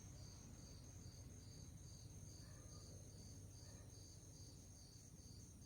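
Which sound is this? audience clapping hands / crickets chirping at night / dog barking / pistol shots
crickets chirping at night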